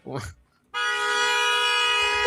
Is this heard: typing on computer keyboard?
no